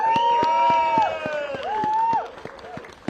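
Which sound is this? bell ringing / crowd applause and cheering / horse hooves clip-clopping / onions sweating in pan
crowd applause and cheering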